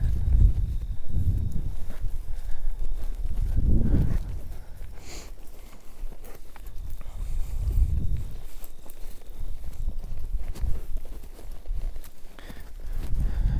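Horse walking around a circle on a ranch, hooves landing in slow, heavy clip-clop thuds at a steady walking rhythm, close by and alone without talk.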